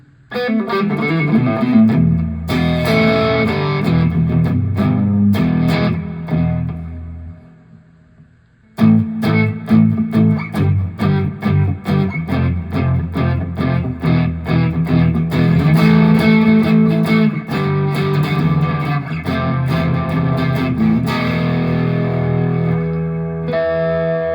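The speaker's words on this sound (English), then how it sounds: "And it also has distortion built into it." Heavily distorted electric guitar, played through a LEKATO Tank-G effects processor, plays loud chords and rhythmic chugging riffs, with a brief pause before a driving, repeated strummed pattern resumes.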